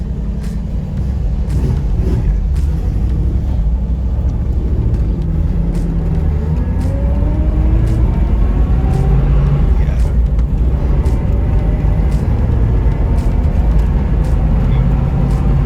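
A restored 1969 Ford Mustang engine runs with a loud, deep, steady rumble throughout, the revs rising and falling slightly, with brief voices in the background.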